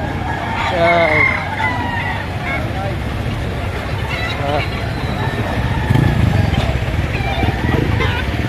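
Chickens and roosters at a poultry market, a rooster crowing near the start amid clucking, under steady talk with passing motorcycles and traffic noise.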